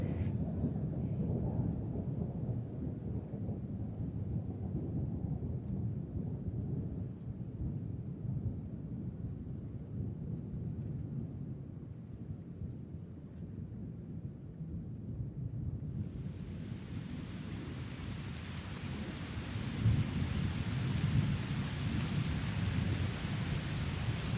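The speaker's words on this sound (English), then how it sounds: "a great storm whipped up, coming eastward from the Great Lakes." A heavy thunderstorm with steady, dense rain pours down continuously, with a deep rumbling low end throughout and a brighter, hissing wash of rain taking over in the last third.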